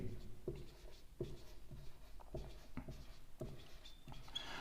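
Close hand-writing of numbers with pen on paper, a series of scratchy strokes and taps at a steady pace in a quiet room.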